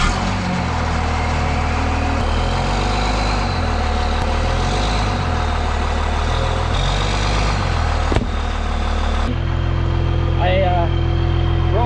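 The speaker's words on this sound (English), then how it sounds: "then I drive my truck backwards onto it" A truck engine idles loudly and close while the truck backs onto a board laid against a tire to break the bead off an alloy rim, a steady low rumble with brief clunks, and a voice talks over it.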